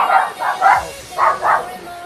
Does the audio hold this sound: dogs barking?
yes